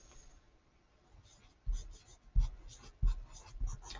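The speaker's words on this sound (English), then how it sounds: "So I can write it once in pencil" Pencil writing a word on paper, soft scratchy strokes with a few firmer taps as letters are formed, close and quiet.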